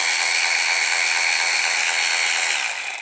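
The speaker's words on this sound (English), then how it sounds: "if we give it just a little bit, it'll slowly turn the anvil of the ratchet" Milwaukee M12 3/8-inch cordless ratchet spinning its anvil under the variable paddle switch, a steady high-pitched whirring motor and gear whine that holds continuously close up before easing off at the very end.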